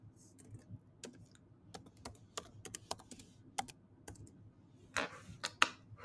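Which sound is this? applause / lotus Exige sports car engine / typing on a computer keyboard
typing on a computer keyboard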